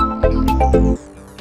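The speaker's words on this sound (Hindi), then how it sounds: "इतनी रात को किसका फोन आ रहा है?" A short electronic ringtone melody plays loudly, a few bright stepped notes, then fades into quieter tones.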